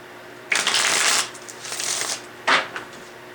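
Tarot cards being shuffled up close: a long riffling flutter, a softer stretch of sliding, then a quick second riffle.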